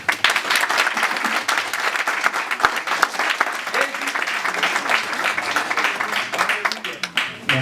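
A church congregation applauds and cheers in sustained, dense clapping that fills the space steadily from start to finish, with voices mixed into the crowd noise.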